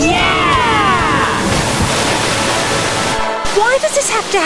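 Rushing water from a waterfall in the Let's Go Jungle arcade game, a steady broad roar mixed with game music tones and effects, no speech.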